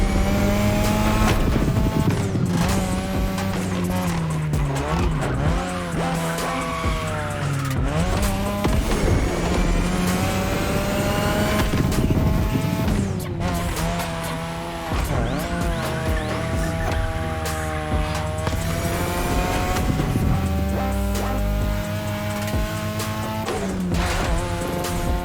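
Racing game cars in The Crew Motorfest, a continuous loud engine roar with rising and falling revs, gear shifts and occasional tire squeal, steady throughout with music-like tonal layers and no talk.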